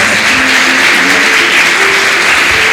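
Audience applause at a Christian women's church gathering, a steady, dense wash of clapping filling the room, loud and continuous with no break.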